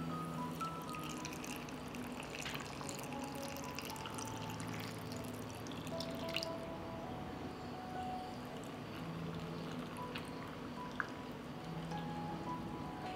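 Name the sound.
water poured into jars of plums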